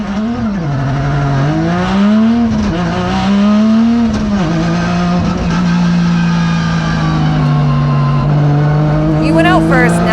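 A Formula Drift car on a drift run during a skills battle, engine note rising and falling loudly and continuously as it revs through the course, with tire noise and a commentator talking over it throughout.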